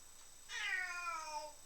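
A house cat, agitated at a closed door, lets out a single drawn-out, falling meow, clear and moderately close in a quiet room without talk.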